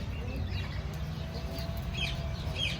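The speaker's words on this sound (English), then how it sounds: "There's just roosters walking around." Roosters wandering loose at a campsite in the Florida Everglades, giving a few soft, scattered clucks and chirps over a steady low outdoor rumble, with faint bird calls in the background.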